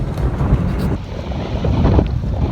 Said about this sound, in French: ici, les rafales sont tellement violentes